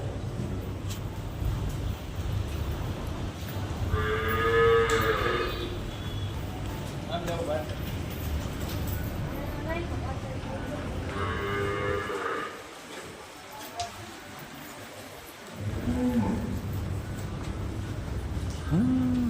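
Cows lowing at a cow shelter holding around 150 to 200 cattle, several drawn-out moos rising over steady background rumble, with people talking nearby.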